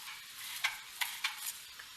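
A brinjal roasting for Kathiyawadi dahi olo gives off a steady bright hiss, broken by a handful of sharp crackling pops spaced irregularly over a couple of seconds.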